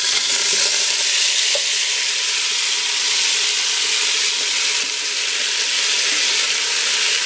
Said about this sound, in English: And just brown up the meat.